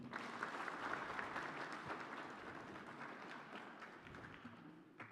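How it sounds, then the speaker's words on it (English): An audience applauds at a presidential announcement, a steady wash of distant clapping that gradually thins out and fades toward the end. "Certainly another round of applause."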